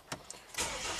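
A BMW engine with a turbo wastegate fix cold-starts the morning after repair: a couple of short starter clicks, then the engine catches and settles into a loud, steady idle close by, with no voices.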